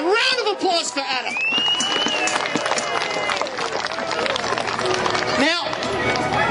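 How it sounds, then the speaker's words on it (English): Crowd applause at a medieval fair in Doonside, a sustained burst of clapping and cheering from an audience, with a voice calling out over it. "Ladies and gentlemen, round of applause for Adam."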